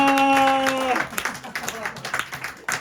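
Applause for a group leader at a church gathering, with scattered uneven claps that follow a sustained sung or spoken tone, moderately close and fairly sparse.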